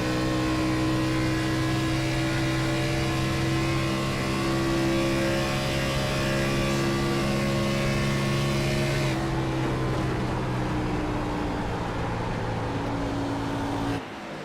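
A NASCAR Xfinity Series race car engine at Auto Club Speedway, heard from inside the car as a loud, steady high-revving drone with sustained tones that shift slightly in pitch, then drops sharply at the end.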